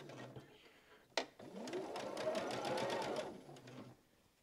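Sewing machine stitching a long strip for a baby quilt: a click, then a steady, fairly faint whirring run of rapid needle strokes lasting a few seconds before stopping.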